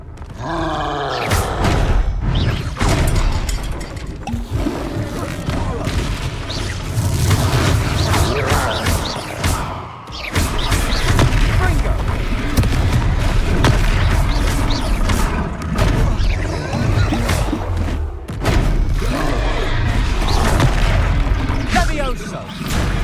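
Booming fire-spell explosions and impact rumbles from the fantasy action game Hogwarts Legacy, loud and repeated, mixed with grunts, roars and combat effects while voices shout over the battle.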